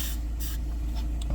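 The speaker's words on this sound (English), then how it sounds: "spray a bit onto the outside edges" Short hissing bursts of WD-40 specialist contact cleaner sprayed from an aerosol can onto the outside edges of rubber seals during a VW T6.1 digital dash install, two brief close sprays with quieter puffs after.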